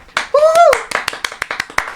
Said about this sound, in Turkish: Alkışlamayın lan!